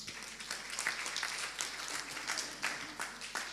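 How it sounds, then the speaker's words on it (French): A small audience at a meeting applauds the board of an association, a quiet patter of scattered claps with individual hand claps standing out, fairly distant and steady throughout. "encore une fois, applaudissez ce bureau de la SMAP"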